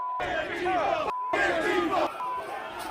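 A crowd of insurrectionists advances on the Capitol, loud shouting voices rising in two bursts of battle cries and chanting, with a brief gap between them.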